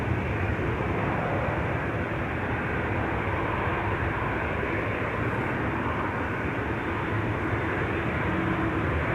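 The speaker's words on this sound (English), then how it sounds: "British Airways up next. Arriving from London Heathrow, A319, flight 430" A British Airways Airbus A319, 18 years old, landing at Schiphol's Buitenveldertbaan runway on arrival from London Heathrow, makes a dense, loud, continuous jet roar that stays constant throughout, with no voices.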